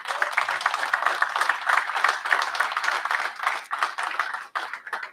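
Sustained applause from an audience honouring fourth-quarter award winners at a company ceremony, a dense continuous patter of many clapping hands that holds steady and thins slightly near the end.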